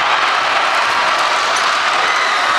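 A basketball crowd at a boys' high school city tournament game rises with steady applause and cheering, a dense, loud wash of noise with no clear gaps, heard close.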